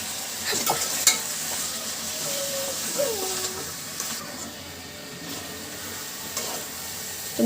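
Boiled potatoes are stirred with turmeric, chili and coriander in a wok, giving soft scraping and thudding strokes over a low sizzle, with occasional faint talk.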